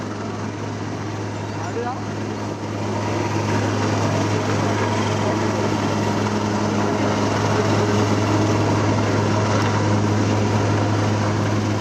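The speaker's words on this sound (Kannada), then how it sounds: "ಸೇನಾ ಹೆಲಿಕಾಪ್ಟರ್ಗಳನ್ನ ಕೂಡ ಬಳಸಿಕೊಳ್ಳಲಾಗ್ತಾ ಇದೆ" An army helicopter flies during the Wayanad landslide rescue operation, a steady, droning engine hum with a low rotor tone that holds throughout and grows slightly louder partway through.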